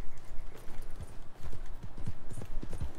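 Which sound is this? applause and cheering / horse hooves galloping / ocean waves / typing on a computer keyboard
horse hooves galloping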